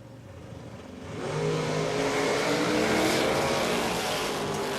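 Drag racing cars launching down the strip at Willowbank Raceway in Queensland, a loud sustained engine roar that swells after the first second and holds near and heavy to the end.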